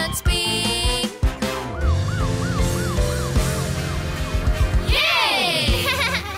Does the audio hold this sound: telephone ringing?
no